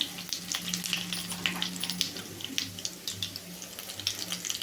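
Mustard seeds, chana dal, urad dal, cumin and dried red chillies crackle in hot oil for a potato fry tempering, a steady close, dense sizzle with scattered pops throughout and no voices.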